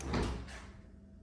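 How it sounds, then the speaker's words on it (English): A door into a run-down fixer-upper farmhouse swings open with a single close, fairly loud scrape and thud that fades quickly, with no talk. "So I'll take you in this door here."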